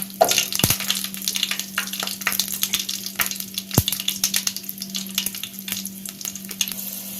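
Curry leaves and garlic crackle in hot oil for a black-eyed pea kulambu, a busy spattering sizzle with a couple of sharp pops and a faint steady hum beneath, close and fairly loud, no speaking.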